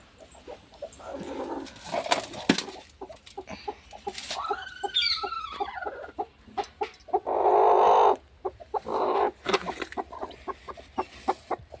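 A hen clucks among her newly hatched chicks, with soft peeping and bursts of clucking in a quiet home yard, and a dog whimpers in the background.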